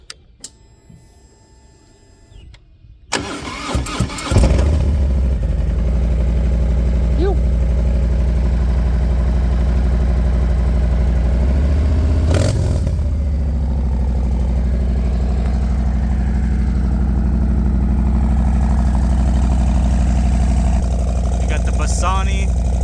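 A Harley-Davidson motorcycle engine starts after a few seconds of quiet and settles into a loud, steady, rumbling idle that continues throughout.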